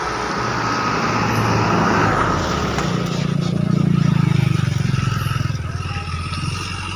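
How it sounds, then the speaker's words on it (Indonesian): A tractor passes on a rural road near a river headwater in Bali, its engine rumble swelling to a loud peak midway and then easing off, over steady outdoor background noise. "ada traktor mau lewat."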